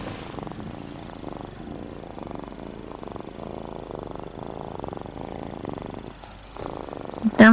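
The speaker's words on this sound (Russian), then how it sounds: "Там вообще должно быть слышно, что она мурлычет." A cat purrs close by in a home, a soft, rhythmic rumble pulsing steadily through the whole stretch, with a brief pause near the end followed by a sudden louder bump.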